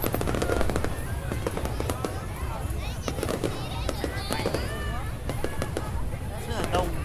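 Low-altitude fireworks at the Lim Festival crackle and pop in rapid, dense bursts throughout, with whistling streaks rising over a festival crowd, while people chatter nearby.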